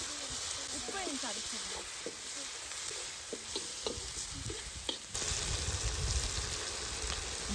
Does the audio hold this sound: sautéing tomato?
yes